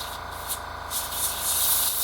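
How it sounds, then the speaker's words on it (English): A Hitachi indoor silent air compressor runs steadily, giving a continuous close, even hiss with a faint underlying hum and no breaks or talking. "it's actually a Hitachi, supposed to be what they call an indoor silent air compressor"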